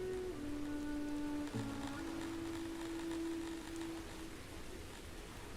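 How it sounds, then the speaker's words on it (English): Rain weather in the video game Songs of Syx makes a steady, soft hiss of rainfall throughout, with a faint tonal hum in the background and no talk. "Rain."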